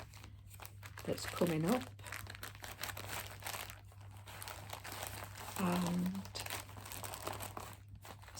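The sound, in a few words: rustling, crinkling of packaging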